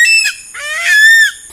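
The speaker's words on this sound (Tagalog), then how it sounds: "nabubulabog na naman ang mga manok" Loud, harsh squawks from nearby chickens, two or three strained calls in quick succession with no talking.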